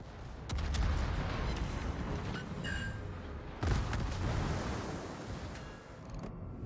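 Heavy naval guns boom repeatedly in World of Warships, deep rumbling blasts at about 0.5 and 3.7 seconds over a constant roar of sea and engine noise, with no talk.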